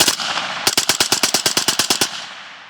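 A 5.56 rifle fitted with a 3D printed suppressor, bump fired at a range: a scattered shot or two, then a rapid string of about fifteen evenly spaced, loud, muffled reports.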